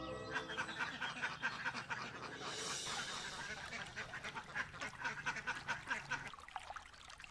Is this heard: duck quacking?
yes